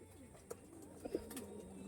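Pigeons coo softly at a distance in a quiet setting, with a few brief low calls rising over faint background noise.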